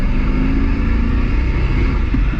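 A Holden VY SS Commodore with 400,000 km accelerates as its tyres gain traction, giving a steady, loud, close engine roar that runs without a break and has no talking over it.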